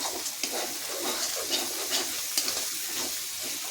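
Chili powder masala frying in a pan for chicken, stirred with steady scraping and a constant close sizzle punctuated by small crackles.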